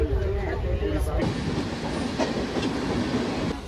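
The Doon Express rolls along the tracks in India, heard from inside a carriage as a steady loud rumble with rhythmic clickety-clack of the wheels over rail joints.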